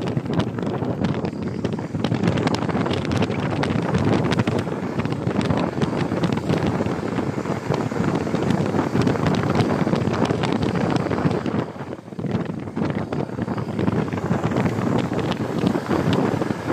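Loud, continuous wind buffets the microphone in rainy, stormy weather in Infanta, a rough roaring rumble that barely lets up, with a brief dip partway through.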